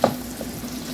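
Mushroom burger patties sizzle in a frying pan with a steady, soft crackle, opening with a brief brighter spatter, then a continuous fry hiss throughout the second.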